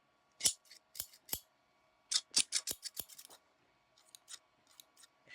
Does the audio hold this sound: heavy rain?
no